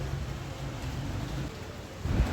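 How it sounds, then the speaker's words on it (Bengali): Light drizzling rain outdoors, a soft steady patter close by with a low rumble swelling near the end, no one speaking. "বৃষ্টিও শুরু হয়ে গেছে, ঝিরিঝিরি বৃষ্টি পড়ছে"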